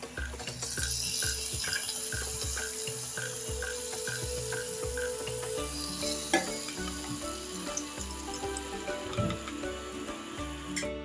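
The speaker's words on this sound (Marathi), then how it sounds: "आता ही तयार फोडणी आपण भातावर घालूया." Hot oil tempering of mustard seeds, cumin, garlic, curry leaves and asafoetida poured over cooked rice for curd rice, crackling and sizzling steadily close up, with occasional clinks of utensils and a brief louder splutter midway.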